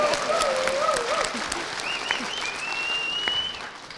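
Audience clapping at a fan talk about magic, a steady dense wash of applause throughout, with a voice briefly speaking at the start.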